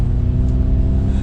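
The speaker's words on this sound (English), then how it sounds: "we also have the propulsion sound. So it's going to pipe in a little bit of sound when you get on the gas" Electric propulsion sound piped into the cabin of a 2021 Ford Mustang Mach-E Premium when accelerating: a steady low synthetic hum and whir, loud and continuous, with no talking.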